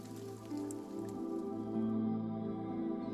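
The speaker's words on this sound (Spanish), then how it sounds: "La lluvia se detuvo." Rain drips steadily as an ambient effect for a zombie apocalypse story, a soft, continuous patter of drops heard alone without any voices.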